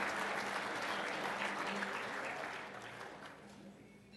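Audience at an evening awards dinner applauding the event committee members, steady crowd clapping that gradually fades away.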